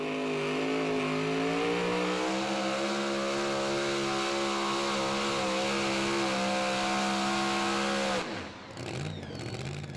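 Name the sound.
super modified 2WD pulling truck engine revving at truck pull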